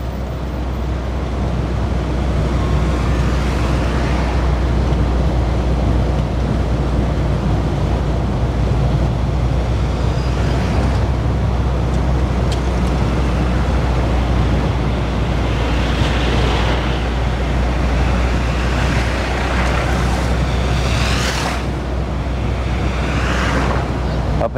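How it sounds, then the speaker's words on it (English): Heavy highway traffic in Mexico, with big trucks and buses passing constantly; a dense, loud, continuous roar and rumble heard from inside a moving vehicle, with occasional louder passes swelling and fading. "The trucks never stop."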